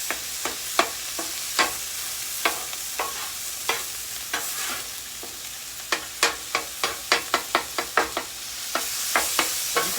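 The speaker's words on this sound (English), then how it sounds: "So we got the hamburgers cooking up pretty nice." Ground beef hamburger browning in a pan for beef stroganoff, a low background sizzle broken by a series of sharp, close spatula scrapes and taps coming in quick bursts, with no one speaking.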